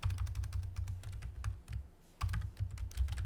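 Typing a message on a computer keyboard, rapid close clicking keystrokes in an uneven rhythm with a brief pause midway, alone without speech.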